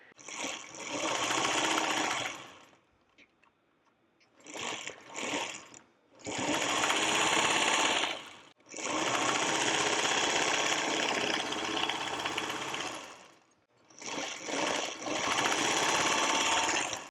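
A sewing machine stitches seams on a quilt block in several long, steady runs separated by short pauses, loud and close, with no talking.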